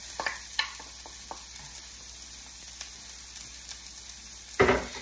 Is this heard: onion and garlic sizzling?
yes